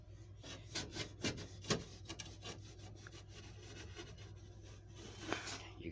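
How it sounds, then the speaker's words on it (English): A sharp knife cutting through rock wool insulation in a step van under construction: quiet, continuous fibrous scraping and rasping strokes, close and soft with slight rhythmic swells, over a low background hum. "cutting rock wool is pretty simple, pretty straightforward. Just get yourself a sharp knife"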